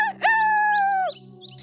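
A rooster crows once, a loud, close, sustained cock-a-doodle-doo with a brief rising start and a long steady tone that falls off at the end, followed by faint background sounds.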